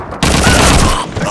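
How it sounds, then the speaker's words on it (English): Loud, dense MG-42 machine gun fire in the World War II shooter Call of Duty 2, a sustained close burst. "It's an MG-42! To the south!"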